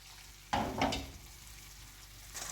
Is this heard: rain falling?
no